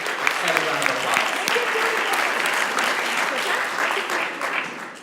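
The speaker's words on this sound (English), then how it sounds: "Please, extend a round of applause." Audience applause at a 2018 ballot-measure public meeting, a steady wash of many hands clapping for about five seconds and tapering slightly at the end, with some voices mixed in underneath.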